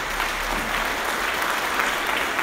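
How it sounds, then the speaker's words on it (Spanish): Applause from a congregation at a Sunday church meeting, a steady, dense wash of many hands clapping throughout, fairly close and continuous with no talk over it. "Este aplauso es para el Señor"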